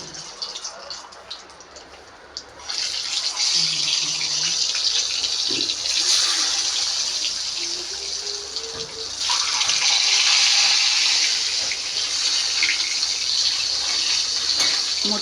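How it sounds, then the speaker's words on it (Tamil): Eggs hit hot oil in a pan on a gas stove and sizzle in a steady, hissing crackle that grows louder as the heat is raised, close by, with brief clinks of utensils. "இப்போ வந்து முட்டை தாங்க இப்போ நம்ம எண்ணெயில் சேர்க்க போகிறோம்."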